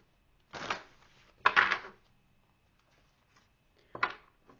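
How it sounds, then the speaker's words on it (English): Tarot cards are shuffled in three quick riffling bursts, close and crisp, each lasting under a second with short pauses between, in an otherwise quiet room. "Three shuffles."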